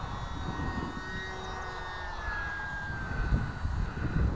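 An E-flite UMX Yak radio-controlled model airplane in flight, its small electric motor giving a thin, steady whine that slides gradually lower in pitch over a rushing wind background, moderately loud, with no voices.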